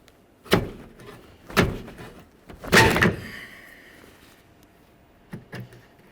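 Plastic window molding pried straight up off a 1998-2011 Ford Ranger door, three sharp loud snapping pops close by, followed by fainter clicks.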